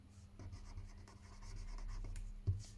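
A pen scratches steadily across paper at close range, quiet and continuous, with short light strokes and a soft tap near the end.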